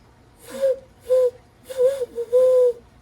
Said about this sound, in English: It may be a great horned owl calling to others in the ecosystem